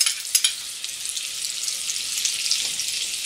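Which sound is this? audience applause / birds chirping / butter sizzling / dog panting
butter sizzling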